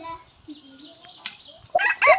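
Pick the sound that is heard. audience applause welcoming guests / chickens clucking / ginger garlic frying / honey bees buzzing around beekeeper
chickens clucking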